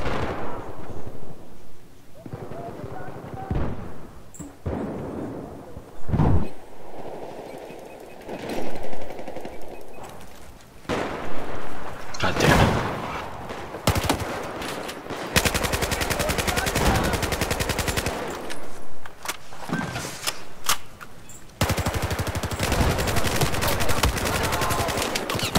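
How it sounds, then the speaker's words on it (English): SCAR-H rifle gunfire in Battlefield 4 on a Dragon's Teeth Rush map, loud single shots and bursts mixed with longer sustained volleys and distant explosions, with dense game noise throughout. "Let's get the SCAR-H firing pattern."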